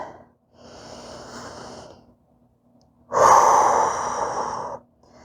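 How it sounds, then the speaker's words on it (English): Deep breaths during a yoga flow, heard alone: a soft, airy inhale followed by a pause, then a longer, louder, forceful exhale through the mouth, close and clear. "One deep breath here."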